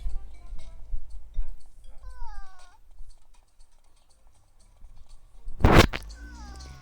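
A grey cat meows a few times, drawn-out and wavering, with a louder burst near the end against quiet background clatter.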